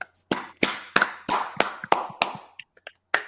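A handful of separate, sharp hand claps from a small audience at a community event, spaced unevenly in a sparse, close burst that peters out.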